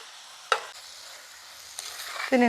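Chopped tomato and curry leaves land in a hot curry pan with a sharp clatter, followed by a quiet hiss that builds into a louder sizzle toward the end.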